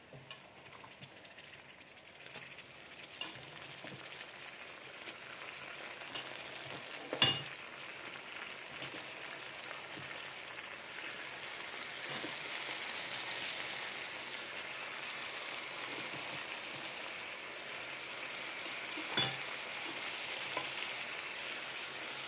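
Mutton frying in oil with ginger paste, a quiet steady sizzle that grows a little fuller partway through, with a couple of sharp knocks from a utensil against the pan.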